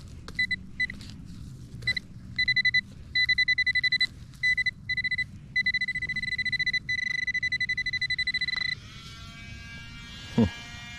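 Electronic metal detector signal tones in repeated bursts over a target near the surface, some short and choppy, others sustained, then a brief sweeping warble and a thump near the end.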